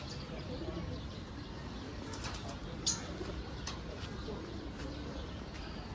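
Pigeon cooing at close range, soft low coos repeating under steady background noise with scattered faint chirps, and a voice speaking over it.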